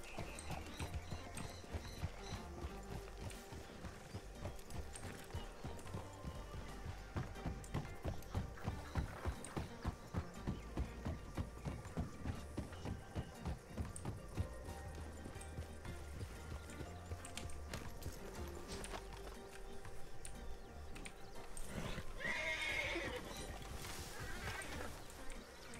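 Video-game horse hooves clip-clop steadily while pulling a wagon, a continuous rhythmic trot at moderate distance with faint ambient buzzing in the background.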